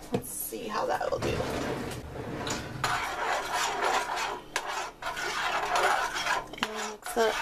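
A spoon stirs and scrapes through char siu sauce with grape jelly in a pot or bowl, steady close mixing and clatter running under someone talking.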